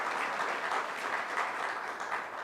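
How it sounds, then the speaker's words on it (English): An audience at a citizen meeting claps steadily, a dense, even wash of applause that holds at a moderate level throughout. "Let's give him a nice round of applause."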